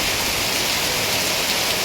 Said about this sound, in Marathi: ते जरा पाऊस थांबायची आता जरा वाट बघूया थोडा वेळ